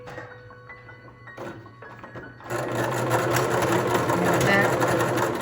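A sewing machine stitches a pixie-style surgical scrub cap, starting after a few quiet clicks and then running loud and steady close by, with a person talking over the start.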